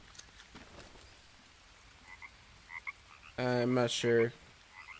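A frog in the Green Hell survival video game gives two loud, close, rasping croaks after a quiet stretch of faint jungle ambience, with someone briefly speaking.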